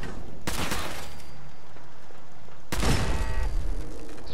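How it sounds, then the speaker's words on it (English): Gunfire in the Fallout 4 video game: two loud, close bursts of shots separated by a couple of seconds, each followed by a ringing decay over a steady background. "You shot me in the back of the head."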